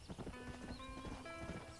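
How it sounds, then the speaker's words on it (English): Horse hooves clip-clop in a quick, steady rhythm while riding in Red Dead Redemption, a faint, continuous trot with tonal game sounds layered in. "Get the old horse. Come on, horse."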